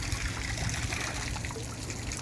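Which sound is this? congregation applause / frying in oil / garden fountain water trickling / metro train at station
garden fountain water trickling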